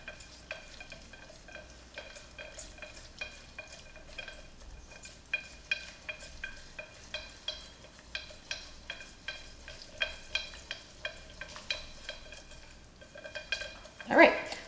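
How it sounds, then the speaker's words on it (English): Brown sugar and butter are whisked together in a Ninja Foodi pot, giving a steady rhythmic scraping and tapping of the whisk against the metal, close and continuous, ending with a louder clank. "I'm just gonna whisk this up a little bit just to combine that brown sugar with the butter"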